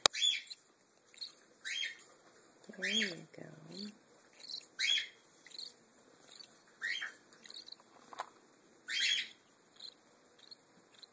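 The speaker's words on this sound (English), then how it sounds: "These are baby cockatiels." Two-week-old baby cockatiels give repeated short, high chirps and squeaky calls in bursts, close by, with a person speaking briefly between them.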